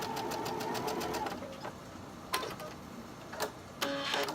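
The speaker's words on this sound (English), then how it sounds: "You do not want to break your sewing machine." A sewing machine stitches a quarter-inch quilt block seam with rapid, even ticking, then pauses between short bursts of stitching, close and moderately quiet.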